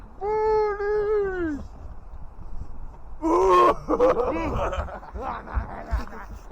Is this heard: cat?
yes